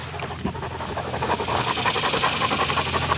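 A livestock guardian dog pants rapidly and rhythmically up close, a steady run of quick breathy huffs with no talking.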